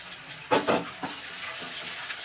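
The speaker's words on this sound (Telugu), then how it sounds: "అవి ఫ్రై అవనివ్వండి." Onions and green chilies frying with spices in a pan for tomato masala rice, a soft steady sizzle with a few louder stirring bursts near the start, close by and without talk.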